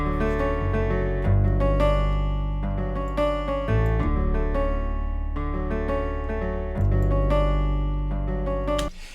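A music track plays without its drums, leaving sustained layered chords and melodic tones with a full, rich low end. It shifts between sections and cuts off at the end, with no voices.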